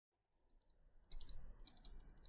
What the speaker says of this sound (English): like for example once again now with the mouse